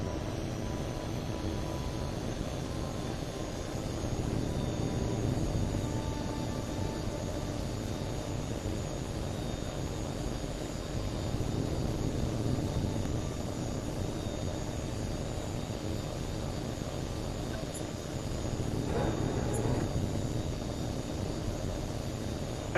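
Jet aircraft engine roaring steadily through a takeoff in the video game Tom Clancy's HAWX 2, a constant broad rumble and hiss with a slight swell near the end.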